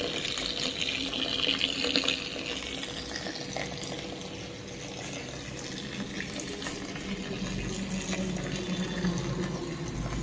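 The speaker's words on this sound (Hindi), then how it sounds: "पानी तो कम आछे कौन करिया पानी बहुत कम आछे" Tap water trickles at low flow into a container in a hotel in Kerala, a continuous, fairly quiet splashing stream with no voices, running steadily throughout.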